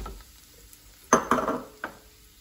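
Chana dal, curry leaves, coriander, green chilli and coconut being sautéed in a pan: a quiet low sizzle broken by a short burst of spoon-against-pan stirring scrapes and a final clink, with no talking.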